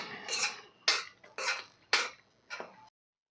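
Cashews are stirred in a pan while making kaju masala, heard as five short scraping strokes spaced at an even rhythm, close and fairly soft, then silence.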